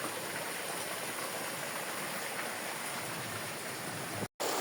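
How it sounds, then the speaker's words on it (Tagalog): Spring water from a mountain flows continuously, a dense, steady rushing like a small stream, close and unbroken apart from a brief cut near the end, with no voices. "At ayan, nakakita naman ako ng bukal."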